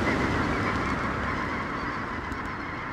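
A dense flock of migrating geese honks continuously in Central Valley wetlands along the Pacific Flyway, a steady wash of overlapping calls with no single bird standing out.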